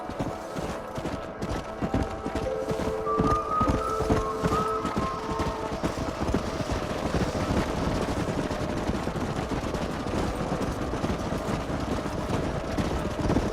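Horses galloping in Red Dead Redemption, a dense continuous patter of hooves close by with a brief tonal whinny-like call early on, steady and loud throughout.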